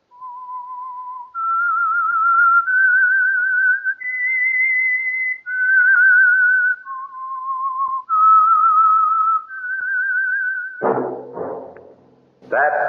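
A clear whistled melody of sustained, sliding notes plays alone, followed by a short burst of other sound at the end.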